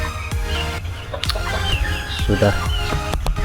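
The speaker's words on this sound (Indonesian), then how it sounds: "ngevideoin ayam-ayam yang umur 3 bulanan" Flock of three-month-old chickens clucking and calling close by in a farm setting, short overlapping bursts with a steady low rumble beneath and a voice talking over them.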